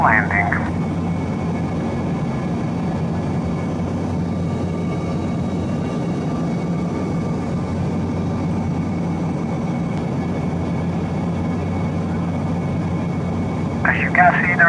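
Steady loud airliner cabin roar during descent for landing with the landing gear down, a constant low engine drone filling the whole stretch, with brief chime-like tones at the start and end.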